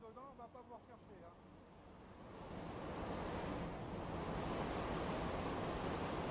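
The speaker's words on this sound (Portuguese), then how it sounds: "Um rio rápido de água de esgoto impulsionado apenas pela gravidade." Fast sewer water rushing through a deep channel in the Paris sewers, a steady broadband roar that builds and grows louder partway through, with a voice speaking faintly over the start.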